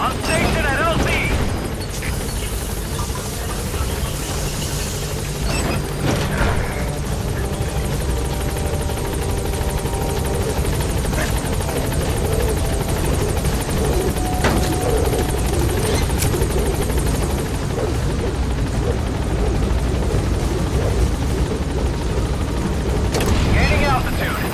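The Pequod helicopter from Metal Gear Solid V: The Phantom Pain arrives, its rotor chop steady and loud throughout, with a few thuds and a voice heard over it.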